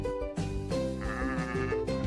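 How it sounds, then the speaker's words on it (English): Sheep bleating on a farm, a wavering voiced bleat that carries through the short clip with steady musical backing underneath and no talking. "I am a sheep."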